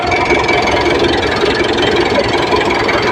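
Engine of a Mitsubishi Montero Sport idles steadily under an open hood, a constant loud mechanical drone with a dense rattling texture and no breaks.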